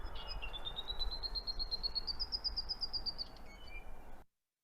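An ʻApapane honeycreeper sings a long, even series of rapid, repeated high notes that rise and then level off, set against a low rumble.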